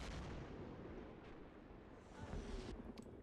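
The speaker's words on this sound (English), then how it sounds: "We have artillery, which are on free fire." Artillery fire in a First World War video game set at Beaumont-Hamel, a dense continuous rumble of distant booming blasts with a few sharper cracks toward the end, heard without talking.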